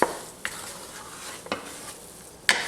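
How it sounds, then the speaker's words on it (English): A wooden spoon stirs dark roux in a pan, scraping the bottom in a few separate strokes over a soft, steady sizzle, close up and with no talking. "you want to keep turning it, and at this point I'm going to switch over to a wooden spoon"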